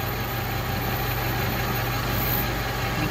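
Lathe spindle running at about 1,010 RPM while machining a titanium bolt into a ring, giving a steady, continuous mechanical hum with a low drone throughout, no talk.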